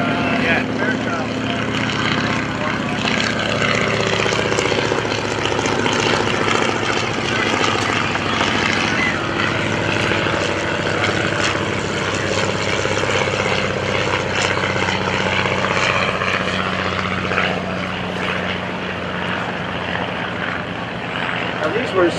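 A Fairchild primary trainer aircraft drones loudly and steadily in flight, its propeller engine a constant close roar throughout, with a voice talking over it.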